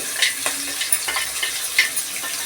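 Spices, ginger and curry leaves fry in a pan for spicy khara pongal, a bright, steady sizzle broken by a few light clinks of a spoon stirring against the pan.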